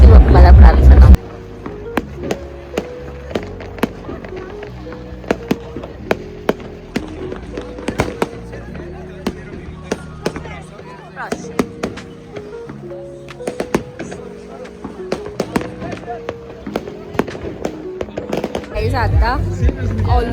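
New Year's Eve fireworks in Warsaw crack and bang repeatedly at irregular intervals, sharp reports over a background of music, with loud bursts at the start and end.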